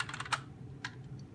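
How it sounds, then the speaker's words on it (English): Quick clattering keystrokes on a Windows 10 computer keyboard, a short burst of random key mashing heard close and fairly faint, with no talking. "Keyboard smash."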